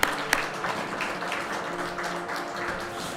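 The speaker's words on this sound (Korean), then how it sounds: "우리 하나님께 영광의 박수를 드립니다." A church congregation at a New Year's Eve service claps together in a steady round of applause, with a few sharper claps standing out early on.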